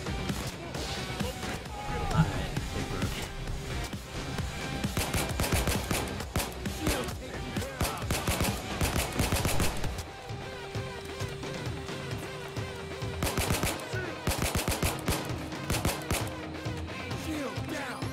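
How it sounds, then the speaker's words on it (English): Gunfire in the Payday 2 heist Big Oil, repeated sharp bursts of shots in rapid clusters, moderately loud, mixed with game noise and occasional voices. "Gunfire makes me get down."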